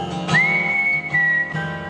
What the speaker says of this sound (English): Sit back and whistle.